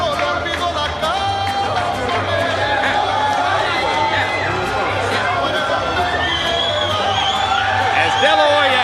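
Boxing arena crowd roaring and chattering as Oscar De La Hoya makes his entrance before the Mosley fight, a dense, loud wall of cheers and whoops with announcer talk layered over it.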